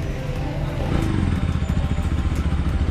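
A new motorcycle's engine rumbles steadily nearby, a loud low throb with faint clattering and no voices.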